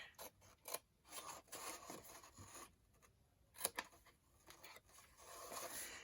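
Scissors trimming paper to shape a bag box make soft, close snips mixed with light paper rustling and scraping. The cutting is faint and comes in irregular bursts, with no voices.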